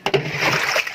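Dirty water splashes as it is tipped out of an American Home automatic washing machine tub during cleaning, a quick close slosh and splatter with a few sharp spills at the start.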